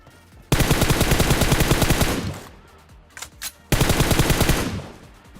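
Rapid automatic gunfire from an M416 rifle in the battle royale game PUBG, with a Kar98k bolt-action rifle in the mix: two loud sustained bursts separated by a short lull with a few isolated shots.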